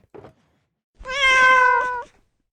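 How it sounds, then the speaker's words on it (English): A cat gives a single drawn-out meow lasting about a second, clear and close, after a brief softer sound just before it. "Ellie, thank you for the meow."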